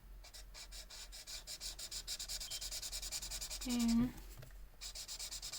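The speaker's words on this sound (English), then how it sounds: "Take the chisel tip, color all of this" A chisel-tip marker is rubbed back and forth across paper in quick, rhythmic strokes while a nearby voice speaks over the scratchy coloring, with a brief pause in the middle.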